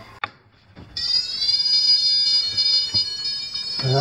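An old fire alarm rings out in a steady, loud high-pitched tone that starts about a second in and holds to the end, with a few faint knocks underneath, in a house during an electrical installation inspection.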